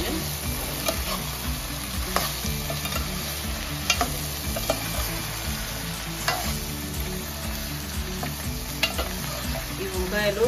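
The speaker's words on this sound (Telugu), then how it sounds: "సాల్ట్ పసుపు వేసుకున్నాక మంచిగా కలుపుకోవాలి." Brinjal curry stirred in a pan after salt and turmeric go in, a steady frying sizzle under repeated scraping strokes of a spoon against the pan, close and continuous with no talk.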